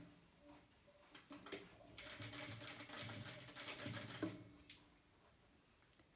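A sewing machine runs a reverse stitch on a two-layer cotton fabric mask, a steady whirring burst of needle strokes lasting a few seconds, with softer handling noise before and after.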